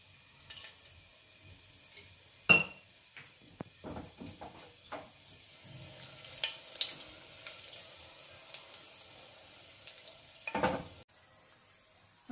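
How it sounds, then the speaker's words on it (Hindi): Whole garam masala spices land in hot oil in a pan while soya pulao is being cooked, giving a soft, steady sizzle. Scattered clinks and stirring knocks from the pan sit over it, with no voices. "अब डालूंगी साबुत गरम मसाला।"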